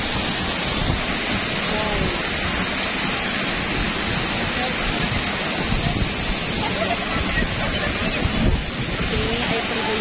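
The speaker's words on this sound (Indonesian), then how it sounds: "dan air terjun ini dari atas ini langsung ke dasar laut" A steady, loud rush of water from Toroan waterfall, dropping from above straight into the sea, fills the whole clip, a constant broadband roar with a voice briefly heard beneath it.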